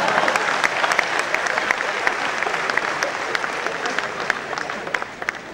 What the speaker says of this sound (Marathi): खात्री आहे त्या टाळ्या किंवा त्या शिट्ट्या त्यासाठी नसतील.